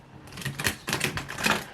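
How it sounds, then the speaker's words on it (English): A deck of tarot cards shuffled by hand, a run of quick rustling, riffling bursts in close succession over under two seconds, near and fairly loud with no talk. "One more shuffle."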